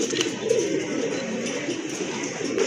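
Fancy pigeons kept for sale coo continuously nearby, several birds overlapping in a soft, throaty, rolling murmur.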